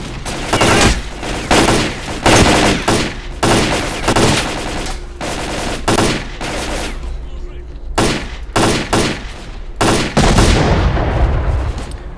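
Rapid bursts of automatic gunfire and single shots from a video game, loud and dense, with brief lulls between volleys.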